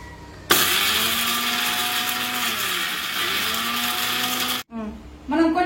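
A mixer grinder whirs loudly and steadily for about four seconds as it grinds cinnamon and other whole spices into garam masala powder, then cuts off abruptly before a voice begins.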